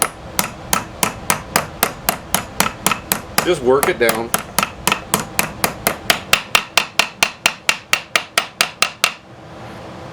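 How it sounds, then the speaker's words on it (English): Steady metallic hammer blows strike the outside of a bearing race on a Bolens MTD lawn tractor deck spindle in a fast, even rhythm for about nine seconds, ringing more brightly toward the end, with a brief spoken phrase midway. "I'm hitting on the outside of the race here."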